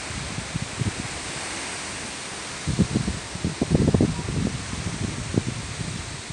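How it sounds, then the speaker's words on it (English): Gusty wind rushing through leaves, a steady rustling roar that swells and surges in the middle before settling back. "A bit windy."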